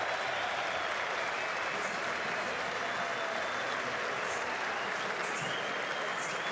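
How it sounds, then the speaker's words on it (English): A cricket crowd at an Australia vs India Test in Adelaide applauds and cheers a century, producing steady, dense clapping and roaring throughout without a break. "what about the roar from that crowd? It erupted, didn't it?"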